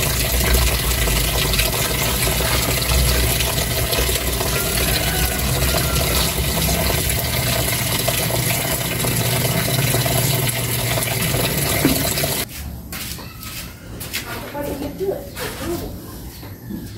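Laundry is dunked and swished by hand in a basin of rinse water, a dense, continuous sloshing and splashing. It turns suddenly quieter near the end, with scattered drips and softer swishes.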